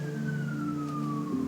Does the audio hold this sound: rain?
no